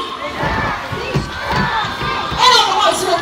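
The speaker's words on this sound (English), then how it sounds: "All the girls will cheer for Sassy." Children in the audience at a sea lion show at Manila Ocean Park shout and cheer in a loud, rhythmic group chant for the sea lion Sassy, with voices rising and falling across the crowd.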